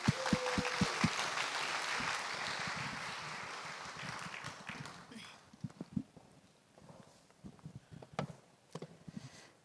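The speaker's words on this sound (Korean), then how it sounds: "박수로 환영하겠습니다" An audience at a church ministry training lecture claps steadily for several seconds to welcome the speaker, the applause thinning and fading out into scattered claps and light room noise.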